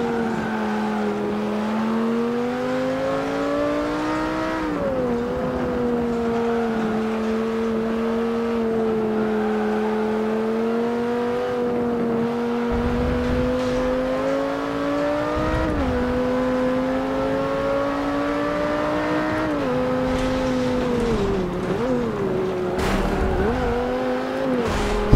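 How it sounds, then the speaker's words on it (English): V8 Supercars racing in an Xbox One X video game: a loud, continuous engine drone that rises and falls with gear shifts and revving, with brief tyre noise and no talk. "V8 Supercars, aren't they?"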